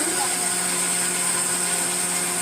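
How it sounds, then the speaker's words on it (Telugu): A mixer grinder whirring steadily as it blends garlic and ginger into paste, a constant high-pitched motor whine with no breaks, loud and close. "కొద్దిగా తెల్లగడ్డ కొద్దిగా అల్లము మిక్సీకి వేస్తున్నాము"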